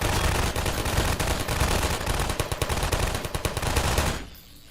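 Automated turrets in Half-Life 2: Episode Two fire loud, rapid, continuous bursts of gunfire that cut off abruptly near the end, leaving quiet.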